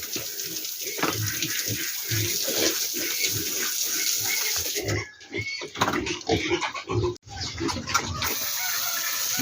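Thirty-day-old hogs on starter feed get a cooling wash, a steady rush of splashing water running almost throughout with occasional pig grunts, the spray briefly breaking and sputtering partway through.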